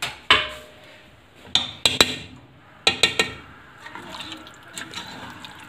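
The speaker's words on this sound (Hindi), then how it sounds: "ये देखें, पालक को अब हम भून लेंगे इसमें" Spinach fries with mutton in a pot while being stirred, giving a series of sharp clanks and knocks over a soft, wet sizzling hiss.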